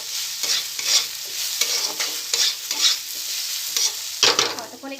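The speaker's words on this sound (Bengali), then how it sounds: "সবটা এবার ভালো করে মিক্স করে নেব আর একটু ভেজে নেব।" Chili powder, salt and turmeric fry in a pan while a spoon stirs them, giving repeated scraping strokes in a loose rhythm over a soft, steady sizzle, close and with no talk.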